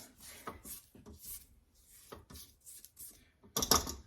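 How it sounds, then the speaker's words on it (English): A spatula scrapes the sides of a bowl of maple brown sugar cookie dough in short rubbing strokes with small pauses, close and fairly soft, ending in a louder clatter. "So I'm just going to take a spatula in here and just scrape"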